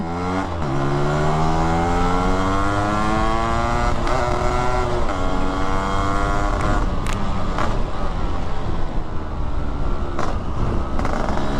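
A restored, fully modified 1985 Yamaha RX-Z motorcycle engine revs hard and continuously, its pitch climbing and dropping with each throttle blip, loud and close throughout.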